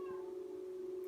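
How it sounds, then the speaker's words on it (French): A cat in a video game gives a short, steady meowing tone that carries alone and lasts about a second. "C'est juste un chat que j'ai planqué dans la maison."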